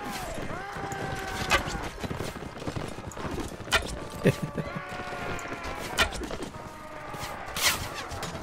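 Horse hooves clop steadily through a battle in the video game Mount and Blade Warband, with occasional sharp impacts and someone talking over the gameplay.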